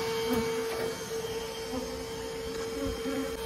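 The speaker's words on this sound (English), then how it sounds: "So I'm going to vacuum and see what I can get accomplished here" A vacuum drones steadily while sucking honeybees out of a soffit during a colony cutout, with buzzing insects close by and a continuous hum throughout.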